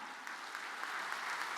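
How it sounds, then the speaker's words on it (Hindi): Loud, sustained applause from a large audience, a dense continuous wash of clapping with no voices on top. "जोरदार तालियों के साथ"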